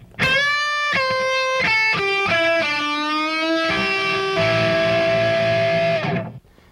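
A distorted electric guitar plays a short rock lead lick, a quick run of sustained notes that ends on a long held tone, loud and alone.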